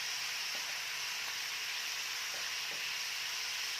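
Chopped onions with cumin powder dry-frying in a pan for an Assamese meat dish give a steady, close sizzling hiss that runs unbroken throughout, with faint stirring scrapes and no voices.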